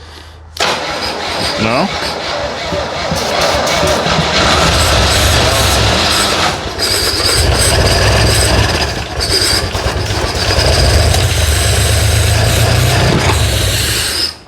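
A 1963 Jeep CJ5 engine, long disassembled, cranks and catches, then runs loud and rough close by with a rattling mechanical clatter as people talk over it.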